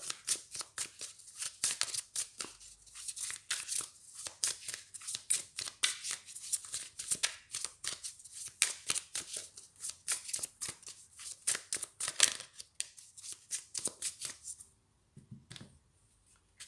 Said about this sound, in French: Alors, je remélange.